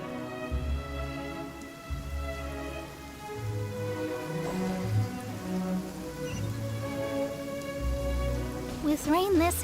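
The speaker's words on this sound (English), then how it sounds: "With rain this heavy, not only are the stars clouded" Steady heavy rain in the video game Genshin Impact hisses throughout, a dense wash of drops with low music and soft game sounds underneath.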